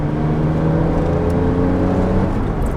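Porsche 911 ST race car engine running loud and steady while driving, a continuous droning growl with strong low harmonics that shift slightly in pitch, close up with no talking.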